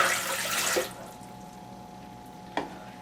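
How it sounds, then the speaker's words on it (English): One cup of water pours into a bread machine pan in a short splashing rush that stops within a second, followed by quiet and a single small knock. "So the first thing we're going to put in is going to be our 1 cup of water."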